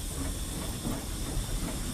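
Steam hisses steadily from a British steam locomotive, a continuous broadband rush that holds at an even level for the whole stretch with a faint low rumble beneath and no voices.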